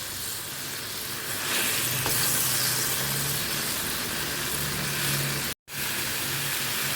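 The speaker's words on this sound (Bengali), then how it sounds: "এটা ভেটকিটা গরম করছি।" Bhetki fish reheating in a pan gives a steady, close sizzle and crackle of hot oil that continues throughout, with a brief dropout near the end.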